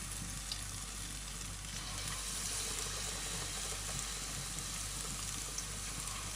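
Chicken schnitzel pieces fry in hot oil with a steady, dense sizzle and crackle throughout, fairly quiet and close, with no talking.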